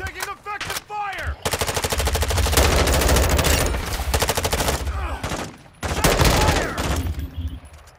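Heavy automatic gunfire in the video game Call of Duty: Modern Warfare II, long loud rapid bursts with short gaps and a second burst later, a voice shouting faintly between them.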